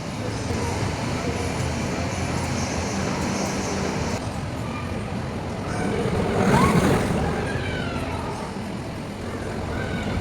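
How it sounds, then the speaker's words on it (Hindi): Roller coaster ride at an amusement game zone, a continuous loud rumbling roar of cars on track, swelling briefly midway, with faint voices mixed in. "हम गए रोलर कोस्टर राइड पे।"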